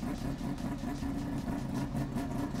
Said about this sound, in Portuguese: E aí, escuta essa lenta.